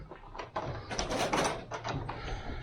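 A working door at a workshop beside a Colorado mountain pass being opened, giving a close run of knocks, rattles and scraping over about two and a half seconds, with a faint voice in the background.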